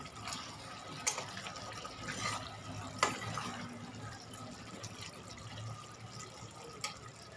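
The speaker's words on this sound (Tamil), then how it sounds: "இப்போ இதில் நம்ம அந்த மாவு வேகிற அளவுக்கு தண்ணி ஊற்றிக்கலாம்" Water pours steadily into a cooking pot with a soft, continuous splashing rush and a few faint clinks.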